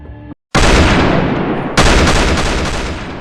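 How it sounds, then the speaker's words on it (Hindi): Heavy gunfire rings out as police fire on a village: a loud burst of shots, a brief silent gap, then a second dense volley close and booming. "ब्रिटिश पुलिस ने भुवन गांव में गोलियां चलाईं।"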